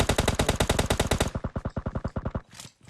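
Automatic weapon fire in a video game shooter: a long, steady, rapid burst of evenly spaced shots, loud and close, ending abruptly after a couple of seconds.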